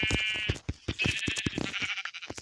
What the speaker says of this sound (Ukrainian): Ще одна вівця